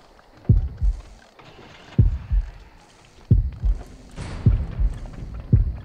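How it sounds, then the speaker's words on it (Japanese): Heartbeat of an approaching killer in the horror video game Horrorfield, deep doubled thumps repeating about every one and a half seconds, loud and close, with faint background ambience between beats. "ただ心音めちゃくちゃ近いです。"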